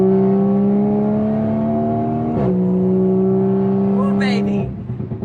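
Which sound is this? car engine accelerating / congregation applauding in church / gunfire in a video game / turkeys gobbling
car engine accelerating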